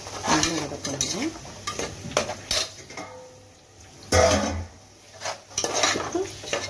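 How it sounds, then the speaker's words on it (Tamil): Onions and tomatoes sautéing in a pan, with metal spatula clinks and scrapes against the pan over a soft sizzle, loud and close, in irregular bursts. "வெங்காயம் தக்காளி போட்டுட்டு போட்டுட்டு நல்லா வதக்கணும்"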